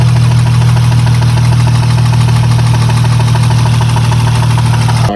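A 2008 Acura TL Type-S engine making an abnormal, low-oil-like noise: a loud, steady droning hum with a faint knocking texture that runs unbroken and close throughout.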